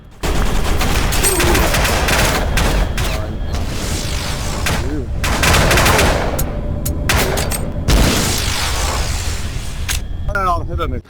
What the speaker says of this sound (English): The shotgun is brilliant if you can get it face first, basically stick it in the face and blast